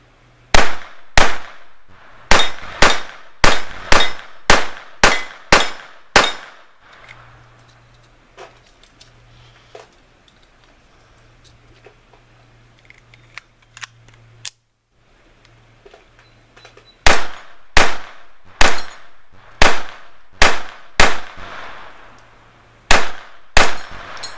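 Ruger 22/45 Lite pistol with a red dot firing at small steel targets, sharp close shots in rapid strings, each with a ringing ping, then a quieter stretch of faint distant pops before another rapid string.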